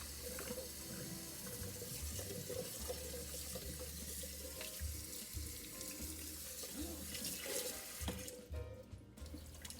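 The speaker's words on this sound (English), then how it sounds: "Rinse them off in that cold tap water." Steady running cold tap water splashes into a metal pot holding boiled eggs, with a low rumbling hum and occasional clinks throughout.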